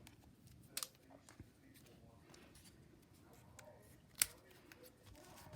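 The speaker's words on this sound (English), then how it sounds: "let me snip this off. Let me get my bigger scissors here" Large scissors snip through paper while a vintage ladies journal cover is being made, with a few sharp, isolated cuts over quiet background handling.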